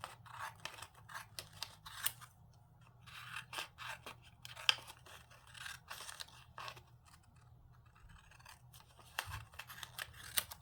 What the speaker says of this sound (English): So I'm going to cut these out and then cut them out.